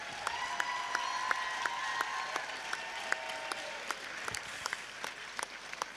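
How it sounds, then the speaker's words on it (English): Audience at the WJPC 2023 teams final, a championship event, breaks into sustained applause, steady dense clapping with some sharper single claps and a faint tonal hum underneath. "a huge round of applause"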